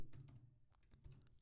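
Computer keyboard keys tapped while entering NumPy code, as a handful of quiet, close, uneven clicks in a short burst.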